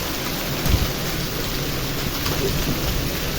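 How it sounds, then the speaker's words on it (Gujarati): Hail and heavy rain pound a tin roof in a summer storm with wind, giving a dense, steady roar with occasional louder thumps, close and continuous. "જોઈ લો કરા કેવા પડે કરાની બહાબહાટી પડે"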